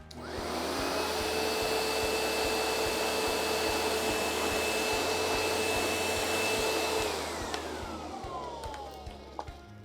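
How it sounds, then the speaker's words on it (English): A Riccar Tandem Air vacuum cleaner runs loud and steady with a high whine, then powers down and winds off toward the end, amid rhythmic thumping. "You want a vacuum with good airflow that's going to move the debris from the carpet and into the bag."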